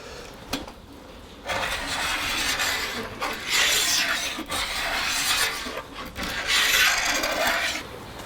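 Repeated rasping scrapes on a hickory self bow limb as it is thinned, several long strokes of a few seconds each separated by short pauses, close and fairly loud with no talking.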